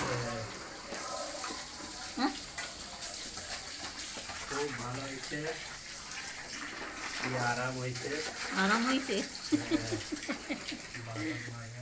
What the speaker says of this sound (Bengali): কলটা লাগিয়ে দিচ্ছি